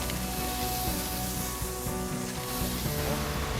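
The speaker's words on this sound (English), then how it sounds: "We're gonna grill that." Bulgogi-marinated venison backstrap sizzling on an outdoor grill, a steady soft hiss and crackle running continuously at close range.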